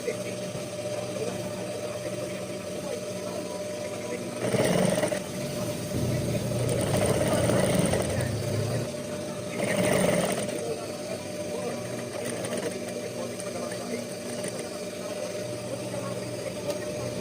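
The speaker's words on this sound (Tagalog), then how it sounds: "Lahat po ng tabi atin pong tahiin." A sewing machine runs steadily as it stitches the side seams of a skirt, a continuous mid-pitched mechanical hum with brief louder bursts of stitching.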